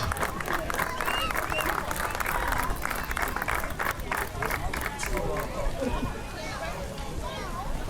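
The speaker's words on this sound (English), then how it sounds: "give Fritz and his mother Colette a beautiful round of applause" An audience at an evening outdoor reading event breaks into loud, sustained applause, dense clapping that continues for several seconds and fades slightly toward the end, with a voice speaking over it.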